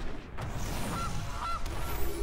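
A goose card being played in the digital card game MTG Arena gives two short nasal honks, close and clear, over a dense layer of game background sound.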